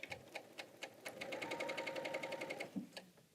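A Bernina serger stitches fabric and trims the thread tail, giving a quiet, fast, steady mechanical whir of rapid stitching clicks that runs for a couple of seconds and then slows to a stop.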